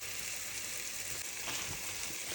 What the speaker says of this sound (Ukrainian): У мене тут смажиться цибулька, яблочко.